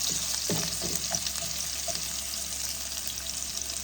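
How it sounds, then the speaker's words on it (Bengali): Onions fry in hot oil in a pan, a steady close sizzle throughout with a few brief stirring scrapes near the start. "পেঁয়াজগুলোকে বাদামি করে ভেজে নেব।"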